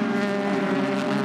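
LMP2 prototype endurance race cars at the 6 Hours of Nürburgring, a steady loud engine drone holding a buzzy pitch throughout a brief pass, with no talking.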